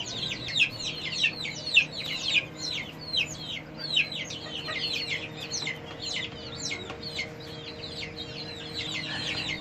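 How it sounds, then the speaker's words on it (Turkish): Rapid bird clucking and chattering from a rooster, repeated calls in quick irregular bursts over a steady low background hum. "Gerçekten muazzam bir horoz."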